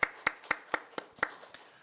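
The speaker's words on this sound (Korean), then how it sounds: "우리가 하나님 앞에 박수로 영광 돌리며 이 새해를" A church congregation claps to welcome the new year at a New Year's Eve service, with sharp even claps in a brisk steady rhythm, close and clear, and no talking.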